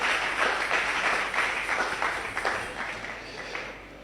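A church congregation applauds in praise of the Lord Jesus, a dense, steady wash of many hands clapping that fills the room and slowly tapers off.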